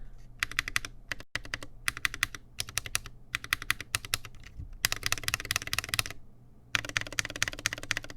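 Holy Panda mechanical keyboard switches typed in steady bursts of crisp, tactile clacks, separated by short pauses and close to the mic with no talking.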